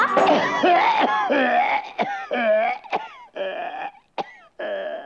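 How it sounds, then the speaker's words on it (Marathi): Sharp coughs and throat-clearing sounds break up a sung Marathi folk-style song about having a cough in a radio show, with the vocal lines continuing around them. "मला लागलाय खोकला"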